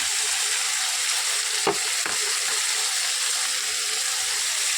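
Spices frying and stirred in a pan, a continuous soft hissing sizzle with two brief scraping stirs near the start, close and fairly quiet.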